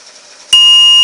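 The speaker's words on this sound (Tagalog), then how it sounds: "Makikita nyo umilaw din sa gilid motion detector at saka alarm." A smart home alarm system's buzzer goes off when its motion detector is triggered, switching on abruptly into a loud, piercing, steady electronic tone that holds without a break.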